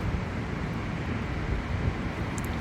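Strong gusts from Storm Nils in Bordeaux roar across the microphone in a continuous, rumbling, buffeting rush with no pauses.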